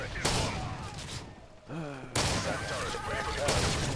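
Shotgun gunfire in Modern Warfare 3 multiplayer on PC, a Domination match: loud broadband blasts at the start and after a brief lull, with dense game noise and someone talking over it.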